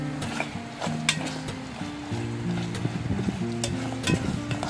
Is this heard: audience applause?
no